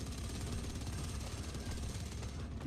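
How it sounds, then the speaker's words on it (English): A distant lawnmower drones steadily outdoors, a low continuous motor rumble that holds at an even, faint level throughout with no voices over it. "if you hear a lawnmower in the background"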